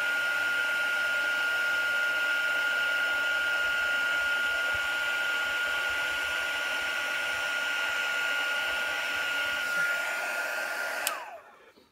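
Handheld heat tool melting embossing powder on an acetate card, a steady close whirring blower hum with a faint whine that holds level, then shuts off and winds down near the end.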